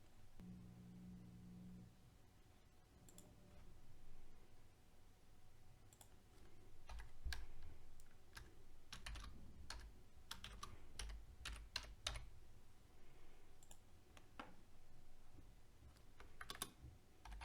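Coding on a computer keyboard, with quiet, steady runs of key taps and occasional louder clicks over a low room hum, close and soft throughout.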